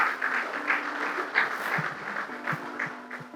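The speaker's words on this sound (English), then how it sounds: "Clap for him." Audience applause fills the room in a steady, continuous clatter of many hands clapping, fairly loud and heard alone without talk.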